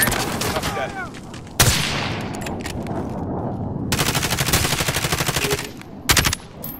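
Rapid automatic gunfire from a Call of Duty Modern Warfare match crackles in several loud bursts, including a long sustained volley, while players talk over it on voice chat.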